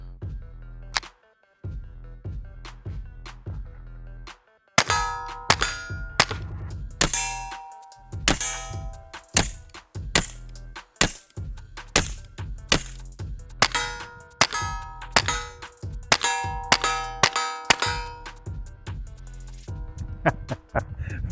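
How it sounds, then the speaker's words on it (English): A suppressed firearm fires repeatedly, each muffled shot followed by a bright metallic clang and ringing. After a few spaced shots there is a pause, then a long run of quicker shots that lasts until the end. "let's load up some more mags and keep shooting, because this thing is so much fun"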